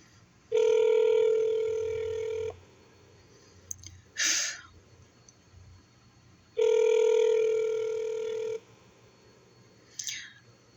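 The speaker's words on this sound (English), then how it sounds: "Not gonna answer the phone." A telephone rings in two long electronic bursts separated by a pause, loud and close, with brief clicks and small handling noises between the rings and no speech.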